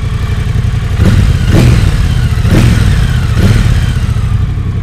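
A Triumph Bobber 1200 parallel-twin engine revs up loud and close, a deep throbbing rumble with several distinct swells of throttle over the idle.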